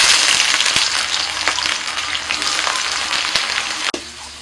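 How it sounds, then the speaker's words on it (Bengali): Chopped onion and whole cardamom, cinnamon and cloves frying in hot oil in a home kitchen, a steady close sizzle with occasional stirring clicks and one sharp utensil knock near the end, no voices. "ফোড়নে দিচ্ছি এলাচ, দারচিনি, লবঙ্গ। এবার দিচ্ছি পেঁয়াজ কুচি।"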